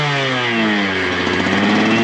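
A 2009 125cc two-stroke dirt bike engine runs loud and close at a motocross track, holding a steady buzzing drone that climbs slightly in pitch as it revs.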